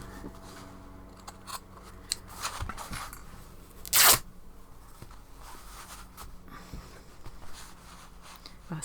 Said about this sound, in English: well, snip and rip rather than cut.